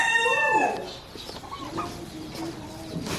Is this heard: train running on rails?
no